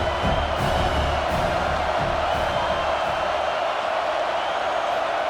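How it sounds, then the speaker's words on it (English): A stadium crowd in EA College Football 26 roars in a steady, loud wash of cheering and whoops, with a few sharp accents early and a broadcast voice partly underneath. "This crowd knows when to bring it."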